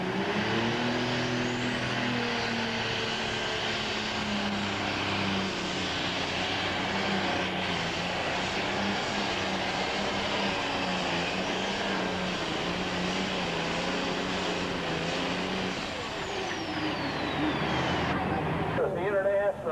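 International 1066 pro stock pulling tractor at a sled pull on a 300-foot track, its engine droning and slowly building RPM, loud and steady over crowd and announcer talk.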